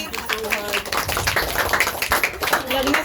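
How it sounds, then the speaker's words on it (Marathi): Several people clap in loose, uneven bursts while voices chatter over the top, a lively indoor crowd sound at a cake-cutting celebration. "टाळ्या वाजवणी."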